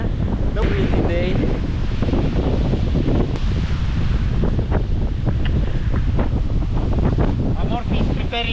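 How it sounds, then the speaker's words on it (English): Strong wind buffets a microphone in a constant, loud, rumbling roar for the whole stretch, with faint chirping and clicks poking through the gusts. "We have a powerful wind ahead us."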